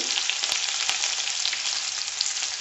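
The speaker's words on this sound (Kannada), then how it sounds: "ಈರುಳ್ಳಿ ಚೆನ್ನಾಗಿ ಫ್ರೈ ಆಗಲಿ." Onions fry in a pan with a dense, steady hiss and sizzle, broken by a few brief scraping stirs, loud and close with no talking.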